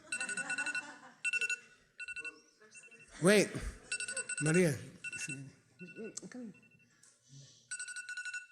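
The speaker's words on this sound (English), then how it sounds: "What's that alarm?" A birthday alarm rings in repeated electronic beeping bursts, loud and close, alternating with people talking over and between the rings.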